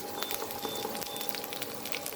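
Cumin and other whole tempering spices spluttering in hot oil, a steady dense crackle and fizz, close and fairly quiet, with no voice over it.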